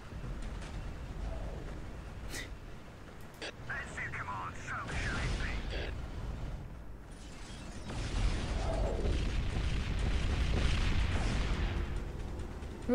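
Rumbling explosions and mechanical booms in Dawn of War with the Ultimate Apocalypse mod roll through a steady game soundscape, swelling louder in the second half, with a voice talking over it.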